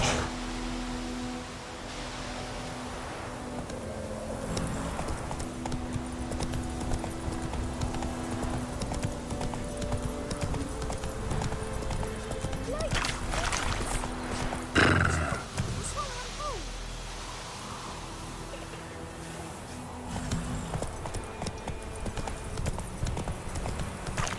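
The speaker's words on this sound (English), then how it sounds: "Whoa there, Roach" Horse hooves clip-clopping in the Witcher 3 video game, a steady galloping beat with brief neighs, set against game ambience and intermittent voices.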